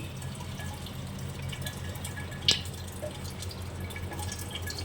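A single water drop plinks once midway from a tap, faint and close, over a steady low background hum.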